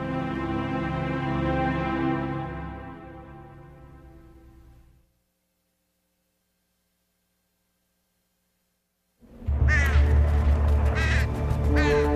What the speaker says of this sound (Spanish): Pájaros de mal agüero se posaron sobre el Capitolio.